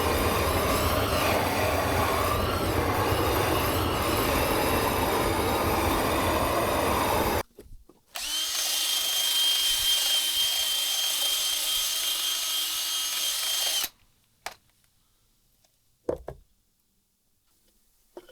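A power drill drives a fine screw into a wooden birdhouse. It gives two long, loud whirring runs separated by a short pause, then goes quiet apart from a faint click.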